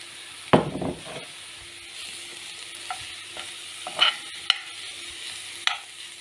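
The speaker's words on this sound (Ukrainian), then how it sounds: "Цибулька трішечки обсмажилась, додаємо грибочки." Mushrooms are added to lightly fried onion in a pan, giving a soft steady sizzle broken by a few scraping, clattering stirs and taps of a utensil, close by and fairly quiet, with no speech.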